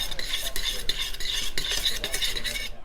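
Half a white onion stirred in a pan with a utensil, a steady run of close scraping and clinking strokes with a faint sizzle underneath, no talking.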